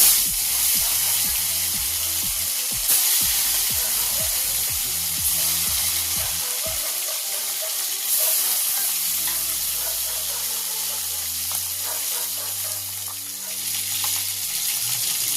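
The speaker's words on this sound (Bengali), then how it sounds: "এবার একে একে মাছগুলো ছেড়ে দেবো তেলে।" Koi fish rubbed with salt and turmeric are slipped one by one into hot oil, giving a loud, continuous sizzle with scattered clicks and crackles of stirring, close up and without talk.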